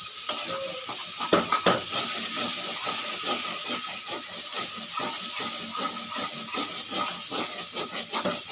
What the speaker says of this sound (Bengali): মশলাটা সুন্দর করে কষিয়ে নেবো আমি গ্যাসটা একটু লো ফ্লেমে দিয়ে দেবো